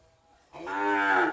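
A single young cow at a cattle sale pen gives one long, loud, close moo after a brief quiet moment, with no talking.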